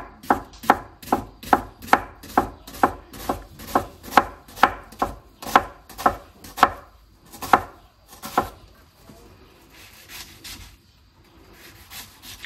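A knife mincing a peeled onion finely on a cutting board for homemade tartare sauce: about seventeen quick, evenly spaced chops close to the mic, then softer scraping and rubbing on the board.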